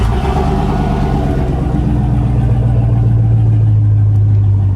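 A car engine runs steadily and rises into a low rumbling rev as the vehicle pulls away, close and loud, with a Trimax Thex Super Chain Lock with alarm fitted; no talking.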